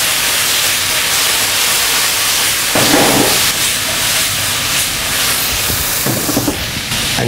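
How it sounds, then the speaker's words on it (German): Strips of duck breast and wok vegetables sizzle loudly and continuously in a hot pan as they are tossed, a broad hissing roar with brief louder bursts. "Das Ganze schwenke ich noch mal eine Minute kurz an"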